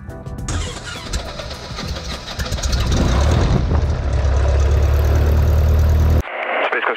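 A small two-seat propeller plane's engine cranks and catches, then settles into a loud, steady, close-up drone with strong low rumble that runs for several seconds before cutting abruptly.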